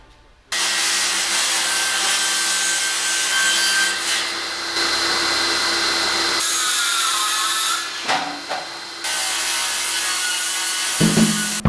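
A table saw rips through wood in a studio workshop with a loud, sustained whine that runs through several long cuts separated by brief pauses, ending with a few clunks as the pieces are handled.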